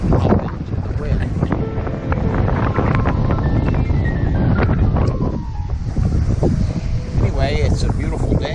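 Sailboat moving fast under sail on a fine day near Subic Bay in the Philippines, with loud steady wind roaring across the microphone, water rushing along the hull and faint rigging creaks, and someone talking over it.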